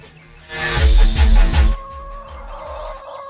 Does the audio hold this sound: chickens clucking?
yes